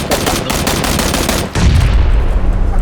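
Rapid automatic gunfire in the video game PUBG (Battlegrounds) comes in loud continuous bursts, first as sharp repeated shots, then a heavier booming, rumbling volley.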